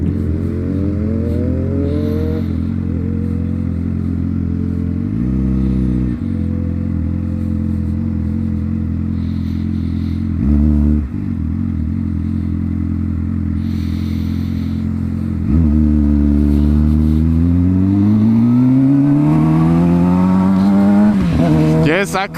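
A sport bike motorcycle rides through commuter traffic, its engine droning loudly and steadily with rising and falling revs and short gear-change dips, heard close up with wind noise.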